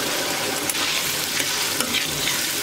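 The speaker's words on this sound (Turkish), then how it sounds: "Patlıcanları da ara ara karıştırarak yüksek ayarda hafif rengi değişene kadar kızartıyorum." Eggplant slices frying in hot oil on high heat and stirred now and then, a steady loud sizzle with occasional scraping stirs and no voices.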